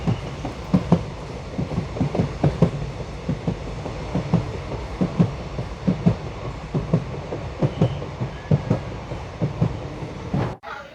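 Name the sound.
train running from Pamban bridge toward Mandapam station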